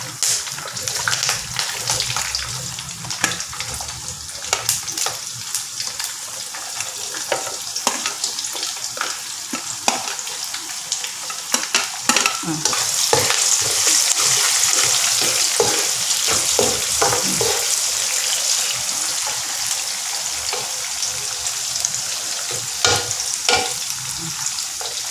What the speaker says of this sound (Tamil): இப்போ நான் வந்து கொஞ்சம் கருவேப்பிலை போட்டுக்கிறேன்.